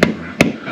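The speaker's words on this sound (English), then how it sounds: "peck it with the hammer" Two sharp, close metallic taps of a hammer striking a screwdriver set against the bypass valve of an Eaton Gemini 771 hydrostatic transaxle, spaced under half a second apart.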